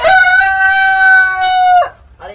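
A rooster crows once, loud and close, with a long sustained call that ends in a short cluck, on a poultry farm of a couple hundred chickens, including Brahma, native and silkie breeds.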